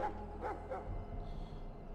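A dog barks in the video game Dragon Age: Origins, three quick barks in a row at moderate loudness, followed by a softer lingering tail over a low ambient hum.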